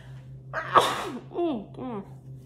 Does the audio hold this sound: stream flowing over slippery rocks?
no